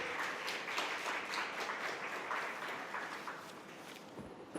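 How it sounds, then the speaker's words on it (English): Applause from a conference audience at an inauguration session, a steady crowd of clapping hands that gradually thins out toward the end. "Let's have a round of applause."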